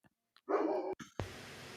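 Dogs indoors let out a short burst of barking, a quick yelp and then a sustained bark, at a faint, moderate distance. A steady hiss follows the barks.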